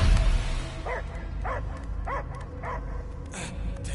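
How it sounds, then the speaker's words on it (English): A dog in the Marvel's Guardians of the Galaxy video game on PlayStation 5 barks about five times in a steady, evenly spaced rhythm, close and clear over a low rumbling game background. "I hear only barking"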